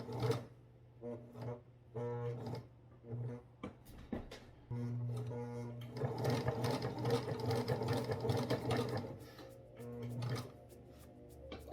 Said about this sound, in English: I'm still using the sewing machine.